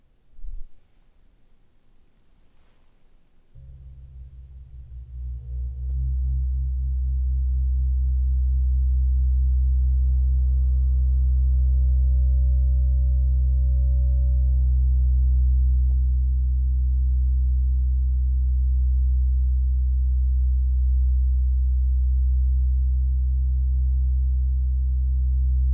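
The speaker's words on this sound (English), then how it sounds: "we're going to go and move on to our next gong. This is the Cosmic Om." A Cosmic Om gong is struck once with a soft mallet, blooming after a few seconds into a deep, steady, humming drone that swells and sustains loudly to the end, with faint upper overtones shimmering above.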